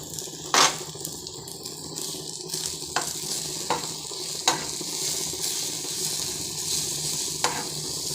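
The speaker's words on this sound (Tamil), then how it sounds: "இது ஒரு 2 நிமிஷம் வதங்கணும்." Steady sizzling of mango sautéing with salt, chili powder and turmeric in a hot pan, with a few sharp clinks and scrapes of stirring scattered through; no voices.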